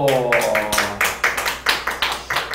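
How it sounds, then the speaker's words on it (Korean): A small group claps in scattered, uneven bursts for a few seconds, the claps close and sharp with gaps between them and a voice at the very start. "박수 해주세요"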